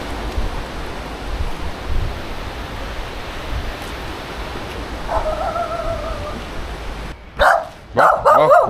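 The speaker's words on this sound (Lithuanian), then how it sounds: "jau dabar iš visų pusių šunys pradėjo lot" Village dogs barking near the end, a couple of loud close barks and yelps after a long stretch of steady windy noise, with a faint tonal call before them.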